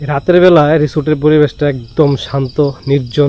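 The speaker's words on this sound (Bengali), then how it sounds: "ঝিঝি পোকার ডাক" Crickets chirp steadily at night at Chuti Resort in Gazipur, a thin, continuous high trill running beneath someone speaking close by.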